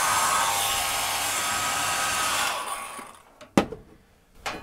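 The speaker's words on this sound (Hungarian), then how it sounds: "hajszárítót is tudok működtetni." A hair dryer powered through a 2500W pure sine 12V-to-230V inverter in a camper runs as a loud, steady whoosh, then switches off, leaving quiet with a couple of sharp clicks or knocks.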